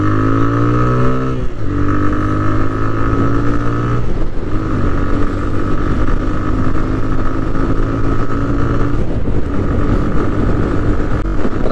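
A TVS Raider 125 motorcycle accelerates hard during a top speed run, its engine revving up through rising pitches, briefly dropping at gear changes, loud and close with a constant buzzing roar.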